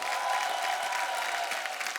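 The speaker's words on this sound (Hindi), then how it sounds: "एक बार फरा मैम और रवीना जी के लिए जोरदार तालियां।" Studio audience applauding on a Hindi TV comedy show, a dense, steady wash of clapping with some crowd noise, brief and fairly loud throughout.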